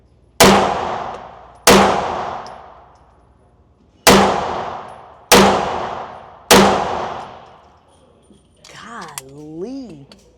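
Five sharp, loud pistol shots from a CZ handgun ring out at irregular intervals, each followed by a fading metallic tail, with a brief exclamation from a person afterward.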